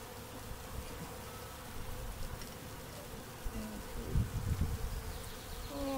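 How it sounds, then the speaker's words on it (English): Honey bees buzz in an open beehive as a honey super is added. A dense, close, continuous drone swells and dips, with a few louder bees passing near. "We got a lot of bees in here."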